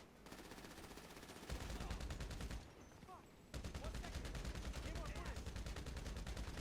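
Automatic gunfire in GTA Online, bursts of rapid shots in two stretches broken by a brief quieter gap, fairly faint in the mix with some voice underneath.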